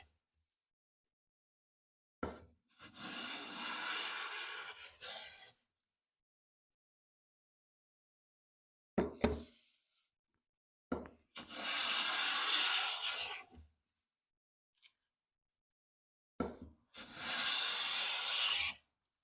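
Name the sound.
Stanley jumbo smoothing hand plane taking fine wood shavings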